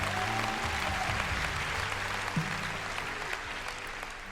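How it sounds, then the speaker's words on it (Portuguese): A church congregation applauds in celebration, a steady wash of many hands clapping that holds evenly throughout with a faint hum beneath. "Você pode dar um aplauso de celebração a essas pessoas"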